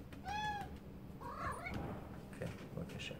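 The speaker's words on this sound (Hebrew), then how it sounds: "יש פה חתולה מאוד מרוצה מאחורי הזנב הזה" A contented female cat meows twice with rising, drawn-out calls, close by, followed by softer chirping vocalisations against a quiet room background.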